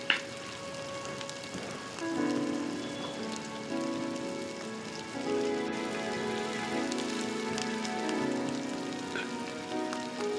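Chopped onion fries in a little oil, giving a steady, rain-like sizzle throughout with faint tonal sounds in the background.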